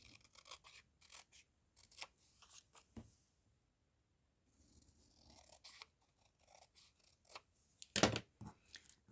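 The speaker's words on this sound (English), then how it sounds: "we're going to do a little bit of cutting out" Scissors snip through paper card pieces for handmade lacy pocket cards, giving quiet, irregular crisp cuts with short pauses and one louder rustling snip near the end.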